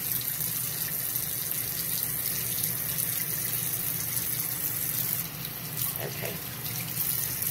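Tap water runs steadily from a faucet into a sink while a face mask is being rinsed off with a washcloth, a constant close hiss with a brief dip in flow near the end and a single short spoken word.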